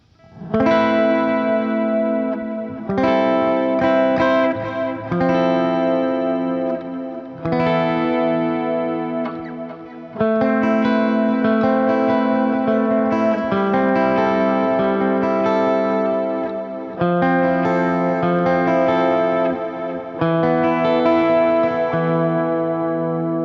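Clean electric guitar chords through a clean amp preset, strummed and left ringing, bright and steady with a hint of grit and no voices.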